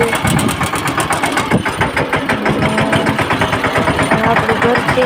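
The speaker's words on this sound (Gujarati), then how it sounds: "આપણે ટ્રેક્ટર બંધ કરી દઈએ." A tractor engine idles steadily nearby at a farm home, its low pulsing rumble continuous and fairly loud throughout, with a faint voice in the background.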